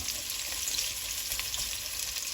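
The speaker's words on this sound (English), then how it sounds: "Just going to sweat all the onions down." Chopped onions sweating down in a pan give a steady, close sizzle that stays even and unbroken throughout, with no talk.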